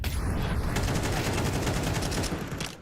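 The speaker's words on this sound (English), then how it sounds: "Pistol hits him in the face, but Grim still keeps on swinging." Dense Counter-Strike firefight during a PGL Bucharest 2025 playoff match, with pistol shots mixed among rapid overlapping gunfire that runs loud and continuous from start to finish.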